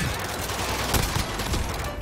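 An Uzi in Modern Warfare gameplay fires in rapid bursts, a fast loud rattle of shots filling the short span amid game sounds.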